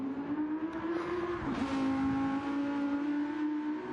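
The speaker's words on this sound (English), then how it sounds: "Listen to that engine thunder as he makes his way to the hairpin" A GT3 race car engine roars toward a hairpin, a sustained loud tone that drops in pitch partway through as it shifts or brakes, then holds steady.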